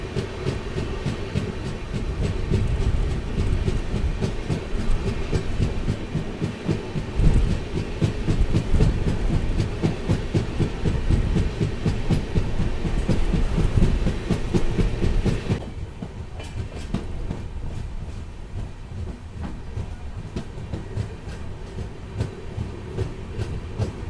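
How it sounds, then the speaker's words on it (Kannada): A train made up of LHB coaches rolls into Siddapur railway station, wheels clattering steadily and loudly close by, then the rumble eases and drops quieter as it slows near the end. "ಇದು ನಮ್ಮ ಟ್ರೈನ್ ಸಿದ್ದಾಪುರ ರೈಲ್ವೆ ಸ್ಟೇಷನ್ಗೆ ತಲುಪಿದೆ"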